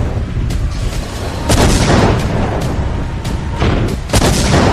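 Missile strikes and explosions in Ukraine, with KH-59 guided missiles hitting Zaporizhzhia: heavy booms and rumbling blasts recur at intervals, loud and close, with sharp cracks among a dense low roar.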